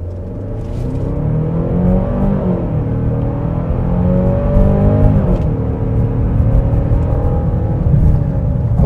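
A 2025 Genesis GV70 Sport Prestige AWD SUV accelerates hard with its turbo engine, a steady loud drone heard from inside the cabin with rising and shifting engine tones and no talking.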